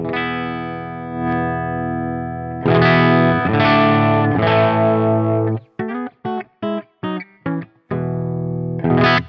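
Switched to the bridge pickup, an electric guitar runs through an amp with the overdrive pedal bypassed, giving a brighter tone: sustained chords swell and ring, then a quick series of clipped, rhythmic stabs before a last chord rings out.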